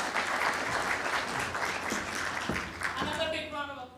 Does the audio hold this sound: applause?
yes